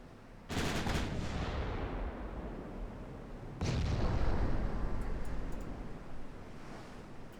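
Naval gunfire in the warship game Ultimate Admiral Dreadnoughts, two heavy booming salvos, each bursting in suddenly and rolling on into a long low roar like surf.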